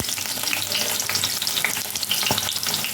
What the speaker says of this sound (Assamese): পানী চিটিকি গৈছে দেখিছেনে পিঁয়াজৰ পানী থাকে সেইকাৰণে অকণমান টুপটুপাই পানী পৰাৰ নিচিনাকৈ পৰিছে